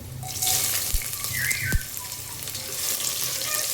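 Chopped ivy gourd (donkakai) drops into a hot pan of tempering and fries with a bright, steady sizzle, with a few near knocks and scrapes from stirring.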